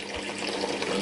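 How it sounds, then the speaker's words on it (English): A murky liquid mix being poured into a container before filtering, heard as a steady, continuous watery splashing and trickle, close and fairly loud, with no talking. "Now we pour this horrible mix into the container."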